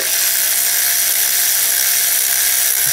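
A handheld power tool loosens bolts on a Chevy Equinox during an alternator replacement, giving a loud, continuous, high-pitched mechanical whirr that runs without a break.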